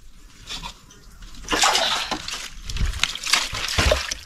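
Water sloshing and splashing during bathing outdoors, with irregular close splashes building from soft trickling to louder bursts in the second half, alone without talk.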